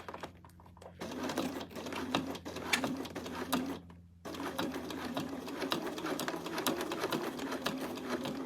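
Sewing machine running steadily while top stitching a fabric unicorn bag, a dense fast needle patter that briefly stops near the start and again around four seconds before resuming, close and alone.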